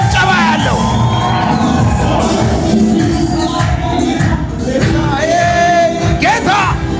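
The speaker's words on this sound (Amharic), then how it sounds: "ማን ነው ለጌታ እልልታ ጭብጨባ ያለው?" A church congregation ululates, claps and cheers in worship, a loud, dense crowd roar with high trilling whoops and shouts that runs continuously throughout.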